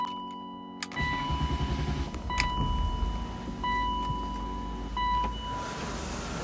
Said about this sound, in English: ready to start the vehicle